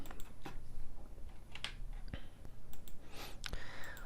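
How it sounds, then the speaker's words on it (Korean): Scattered key presses click sharply at an uneven pace, a handful of distinct taps on a keyboard close up, with soft background hiss. "컨트롤 Q를 눌러 보겠습니다."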